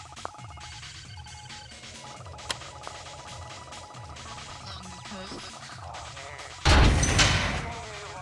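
Artillery fire in Red Alert 2 booms out as a sudden loud blast near the end, following a stretch of quieter in-game ambience with faint clicks and scattered unit activity.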